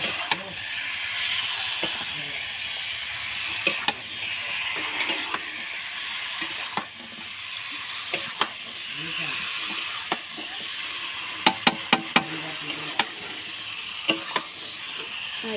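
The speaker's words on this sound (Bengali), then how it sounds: "ঢেলে ভালো করে মাংসটাও কষিয়ে নেব" Meat coated in spice mix is stir-fried in a pan, with a soft continuous sizzle broken by sharp clicks and scrapes of the spatula against the pan, some clustered in quick bursts.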